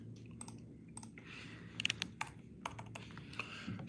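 Typing on a computer keyboard while filling out an online form: scattered, quiet key clicks in uneven bursts over a soft background hum.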